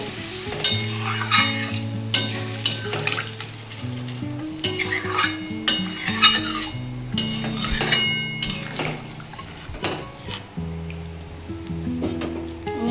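Water poured into a hot pan for a thin Bengali bata fish curry with potato, ridge gourd and pointed gourd, giving a steady sizzle and bubbling with occasional utensil clinks, partly masked by louder background music.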